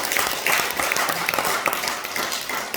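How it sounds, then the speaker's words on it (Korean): A church congregation gives sustained, even applause throughout during a thanksgiving service, a close, continuous wash of many hands with no pause. "박수 한번 주세요"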